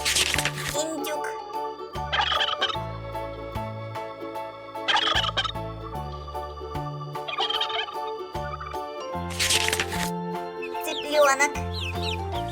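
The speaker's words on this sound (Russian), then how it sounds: "Индюк." A turkey gobbles in several rapid, rattling bursts spread over a cheerful children's music backing, each outburst short and loud.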